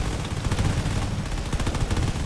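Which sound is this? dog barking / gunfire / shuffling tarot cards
gunfire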